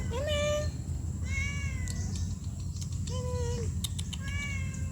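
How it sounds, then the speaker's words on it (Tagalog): A kitten meows repeatedly in high, thin cries, several in a row with short pauses, over a steady low rumbling background. "Ay, ang kuting."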